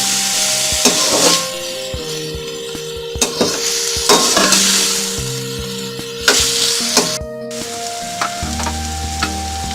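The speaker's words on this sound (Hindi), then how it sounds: "अब हम इसमें गाजर ऐड कर देंगे, शिमला मिर्च, 2 से 3 मिनट तक पकाएंगे।" Chicken, carrot and capsicum being stir-fried for restaurant-style chicken fried rice, a steady close sizzle broken by repeated scraping and tossing strokes of a spatula against the pan, with no talking.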